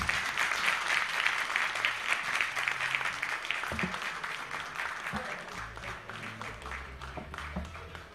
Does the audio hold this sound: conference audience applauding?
yes